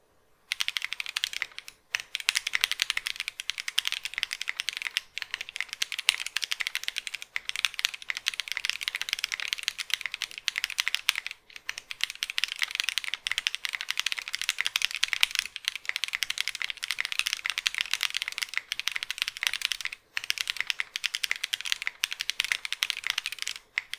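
Fast, continuous typing on a Brutal 60 keyboard fitted with Cow switches, a dense stream of close, crisp key clacks with only brief pauses and no talking.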